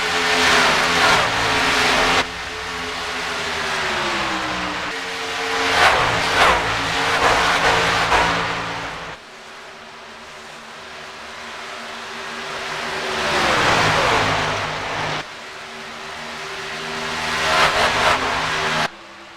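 Race truck engines roar and rev in a racing video game, loud and continuous with rising and falling pitch as trucks accelerate and shift, dropping off briefly before surging again.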